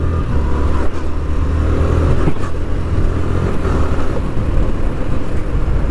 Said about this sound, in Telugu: క్విక్ షిఫ్టర్ అయితే ఆల్రెడీ 6 గేర్స్ అయితే వేస్తా, వితౌట్ క్లచ్ అయితే వేసాను మీకు 6 గేర్స్ అయితే